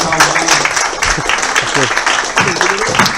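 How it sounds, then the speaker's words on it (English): An audience applauding a speaker's welcome at a talk, a loud burst of clapping heard close, with voices mixed into the noise. "Let's give him a round of applause and welcome."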